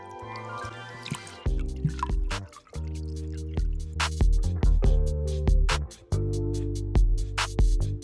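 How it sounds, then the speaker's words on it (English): Hot heavy whipping cream, simmered in a saucepan, is poured over chocolate for brownie ganache, giving close, wet dripping and glugging with tonal liquid splashes throughout. "pour over the chocolate."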